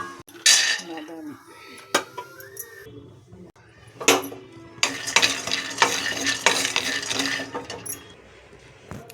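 Nutmeg, dates and almonds roast in a pan, with fenugreek also used, for a homemade ragi malt; a spoon stirs and scrapes against the metal in repeated clanks and rattles over a soft sizzle, with a dense burst of scraping later on.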